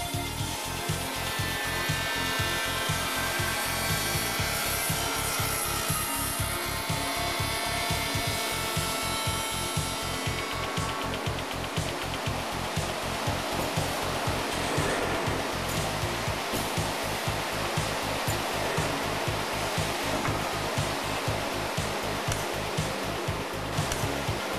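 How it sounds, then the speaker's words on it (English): A Hundegger K2i automated joinery saw cuts offset and angled tenons in timber. Loud, steady machine roar and whine runs without a break, with a fast rhythmic chatter pulsing underneath. No one speaks. "Offset and angled tenons are cut automatically."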